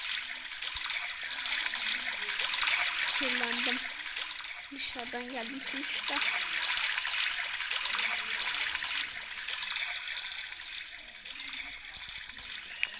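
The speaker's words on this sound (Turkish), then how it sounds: "Ben bir duş alayım." Steady hiss of shower water running in a home bathroom, continuous and fairly close, with a person speaking briefly over it partway through.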